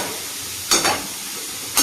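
Food fries in oil in a covered home-kitchen pan with a constant close sizzle, broken by a few short, louder bursts of rattling or stirring.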